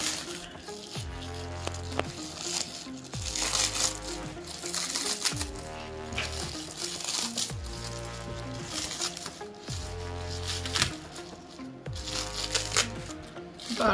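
Crinkly plastic wrap being peeled off a homemade rice ball filled with pickled plums and wrapped in seaweed, close and soft, in repeated rustling bursts with no talking.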